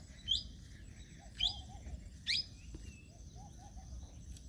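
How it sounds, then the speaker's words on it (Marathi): A kingfisher gives three sharp, high-pitched calls about a second apart on an outdoor walk, with faint softer chirps between them. "खंड्या पक्षी आहे हा"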